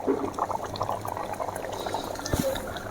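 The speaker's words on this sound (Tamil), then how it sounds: "மருந்து குழம்பு நல்லா கொதிச்சு வந்துட்டு" A pot of medicinal kuzhambu, a curry for new mothers, bubbling at a steady boil, with continuous close gurgling and popping bubbles and no voices.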